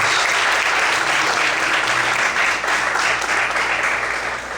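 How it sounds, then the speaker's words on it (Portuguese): A church congregation applauds together during a worship service, the clapping dense, steady and loud throughout, fading only slightly toward the end. "Vamos aplaudir ao Senhor."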